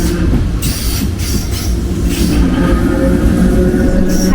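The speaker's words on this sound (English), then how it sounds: "there's a train, but not our train." A train rolls loudly past close by at a station near Dublin. Heavy rumbling wheels and rattling carriages run under bursts of high squeal and hiss, continuous throughout.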